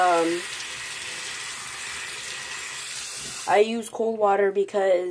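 Cold water runs from a tap into a sink in a steady hiss while cleaning a gas mask, then stops abruptly as a person starts talking.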